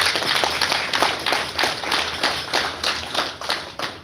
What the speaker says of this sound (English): I need you to give the corporate service team a round of applause.